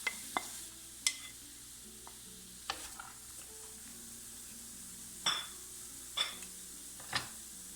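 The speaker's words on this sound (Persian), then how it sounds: "خورد میکنیم و داخل یک قابلمه یا یک ماهیتابه مناسب میریزیم" Quiet, steady sizzling of chopped onion frying in a pan, with occasional sharp clinks and scrapes of a utensil stirring against the metal.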